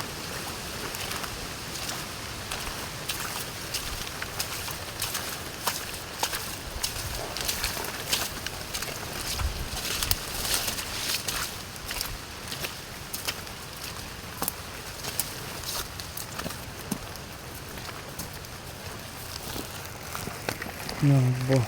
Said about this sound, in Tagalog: Sobrang lakas naman ng hangin. Lakas ulan.